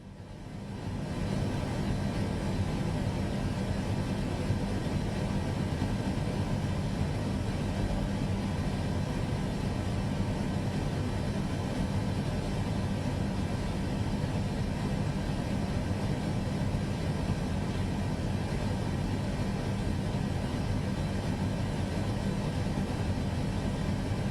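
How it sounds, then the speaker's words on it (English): A steady, broadband roar from an airliner's engines in reverse thrust in Microsoft Flight Simulator, holding constant and loud throughout with a deep low rumble and no talking. "I should probably just use reverse thrust, and that way I can steer. Let me put it into reverse thrust."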